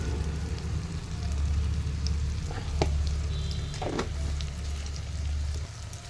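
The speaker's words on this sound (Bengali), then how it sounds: "এখন দিয়ে দিচ্ছি ধনে গুঁড়ো, এখন দিয়ে দিলাম জিরের গুঁড়ো" Ground coriander and cumin hitting hot oil in a pan while chicken kosha cooks, giving a steady close sizzle with a soft clatter of stirring, no voices.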